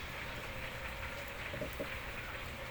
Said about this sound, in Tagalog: umuulan kasi, ang lakas ng ulan.